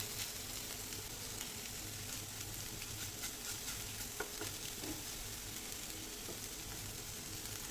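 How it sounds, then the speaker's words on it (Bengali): Pieces of egg fry in a pan until reddish, making a soft, continuous, even sizzle with occasional tiny pops, quiet and unbroken throughout. "আরও দু এক মিনিট সময় নিয়ে একেবারে লালচে করে ভেজে নেব"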